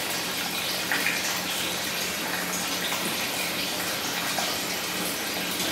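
Water sprays steadily from a shower in a private sauna room, a dense continuous hiss that stays even throughout with no voices.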